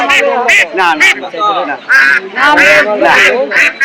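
Loud, close ducks quacking in quick, repeated nasal bursts at a poultry market, with people's voices mixed in.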